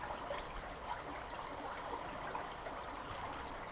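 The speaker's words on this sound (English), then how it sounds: "there's water running. You can hear it." Seepage water trickling and running through Churchill Barrier 2 from the sea side, a faint, steady rushing trickle heard alone at a distance.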